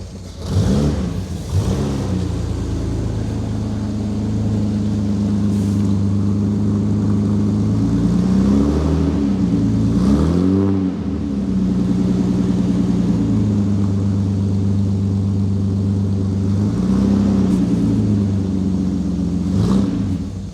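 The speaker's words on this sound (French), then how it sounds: "c'est le son du moteur." A 1960s-era Austin Healey 3000 with a six-cylinder engine starts and idles with a deep, close rumble, rising in several revving surges before settling back each time.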